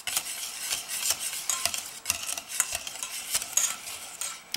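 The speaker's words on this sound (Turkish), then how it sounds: "Aynı tencereye sadece biraz kakao kattım. Ve onu güzelce karıştırdım." A spoon scrapes and clinks against a pot while stirring cocoa sauce, in quick irregular strokes close up, with small pauses between bursts.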